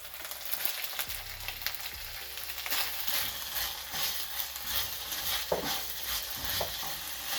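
Peas, day-old cooked rice and eggs frying for homemade fried rice, a continuous sizzle with repeated scraping and stirring of a utensil in the pan, no voices.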